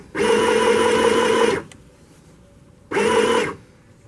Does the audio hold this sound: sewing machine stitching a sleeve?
yes